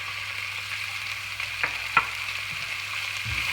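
Chopped onion and celery sizzling in ghee with rabbit pan juices, a steady close crackle with a couple of sharp utensil clicks against the pan.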